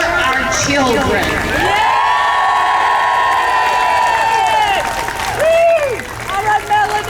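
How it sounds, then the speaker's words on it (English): Crowd at a No Kings Day rally in Bell County cheering loudly, with sustained shouts and whoops from many voices over a steady roar, rising and falling near the end. "Cheer for our children."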